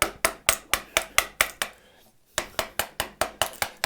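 A hand tool cuts an angled groove into wood without a plow plane, giving a steady, close run of sharp, evenly spaced strokes. A brief pause falls midway before the rhythm resumes.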